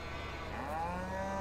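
Cattle in Farming Simulator 22 on a Texas farm map moo with a drawn-out, rising low call over a steady background hum of farm ambience.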